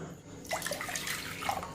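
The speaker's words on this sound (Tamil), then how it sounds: "அதே கப்பில் இப்போ நம்ம 2 கப்பு தண்ணி ஊற்றிக்கிடுவோம்." Water poured into a kadai for a ragi sprouts recipe, a short close splashing pour starting after a brief pause and running to the end.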